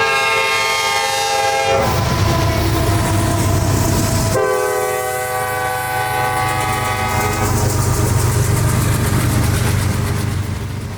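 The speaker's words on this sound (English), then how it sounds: "train B207 rumbles north on track 2 past the Rurdell crossovers" CSX freight train B207 rolls north on a track past rural crossovers near Dade City, Florida, a loud, steady rumble of cars close by, broken twice by long, blaring horn blasts.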